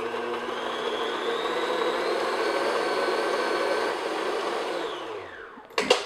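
Electric hand mixer beating butter and brown sugar on medium speed, a steady close whirring hum lasting several seconds before winding down, ending with a short clatter.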